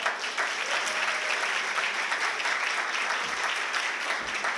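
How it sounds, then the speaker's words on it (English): Sustained audience applause fills a gala hall, dense and steady clapping at a moderate distance with no break for the full span, a faint murmur of voices mixed in. "let's give a round of applause to Joe Sullivan"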